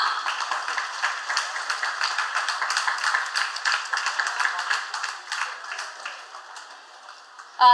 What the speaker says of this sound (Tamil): அனைவரும் ஒருமுறை பலத்த சத்தமா கைத்தட்டி ஐயாக்கு நன்றி சொல்வோமா?